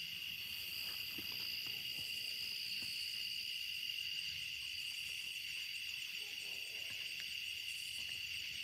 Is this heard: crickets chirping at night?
yes